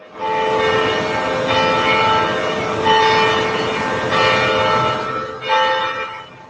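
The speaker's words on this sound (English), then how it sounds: "Bells are chiming at Catholic parishes across the St. Louis metro area, including the Cathedral Basilica" Church bells ring out from Catholic parishes across the St. Louis area, including the Cathedral Basilica, marking the announcement of a new pope; a dense, continuous peal of overlapping tones with periodic louder strikes, no voices.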